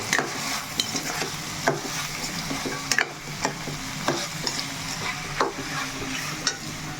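Mutton keema fries in a pan under steady sizzling, with a spoon scraping and tapping through it at irregular intervals, close and with no talking.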